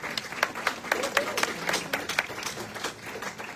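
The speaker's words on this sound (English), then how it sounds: "So a round of applause for Albert for that." Conference audience applauding after a surgery presentation, a moderate burst of many hands clapping in uneven bursts that stays fairly close and continues for several seconds.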